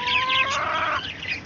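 A country chicken kept on a city rooftop clucks in a short run of close, fairly loud calls that ease off toward the end, with no talking.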